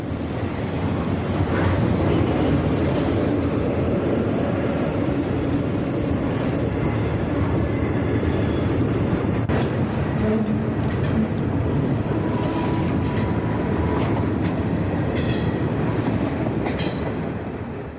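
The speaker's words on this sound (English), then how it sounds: "family at the railroad park enjoys the view as the extra mail train exits the tunnel" A mail train exiting a tunnel rumbles steadily nearby for the whole stretch, a broad continuous roar of wheels and engine with faint clanks on top.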